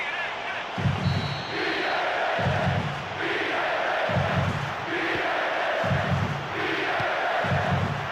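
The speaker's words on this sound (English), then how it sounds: "judging by the crowd's reaction, they thought he'd done enough too" A football stadium crowd in PES 2013 reacts to a shot, its roar swelling and falling with rhythmic chanting surges roughly every second and a half. The noise fills the stadium and no words are spoken.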